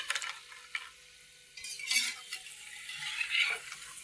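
Potato wafers sliding into hot oil, a close, bright sizzle and bubbling with stirring and a few soft clinks from a utensil, no talk.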